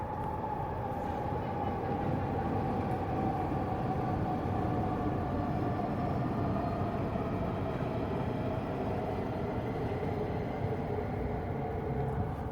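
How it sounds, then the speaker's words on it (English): A train rolls past a busy courtyard with an afternoon crowd, a steady loud rumble and wheel-on-rail roar holding evenly throughout with a faint tonal whine, no talk over it. "Train."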